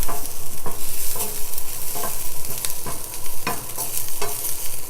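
Chopped onions, cut into roughly inch-square pieces for curry paste, sizzle steadily in a hot pan while a spoon scrapes and stirs them in repeated close, loud strokes, with no talking.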